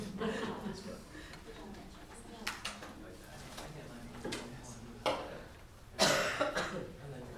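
A woman with an allergy cough lets out several short, harsh coughs and throat clears in a meeting room, spaced out over a few seconds, the last one loudest, with quiet voices around them.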